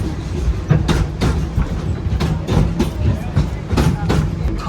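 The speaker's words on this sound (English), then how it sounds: "the train should be coming around here pretty soon" A train at Disney's Animal Kingdom rolls past with rhythmic clicking and clattering wheels, loud and near, with voices faintly in the background.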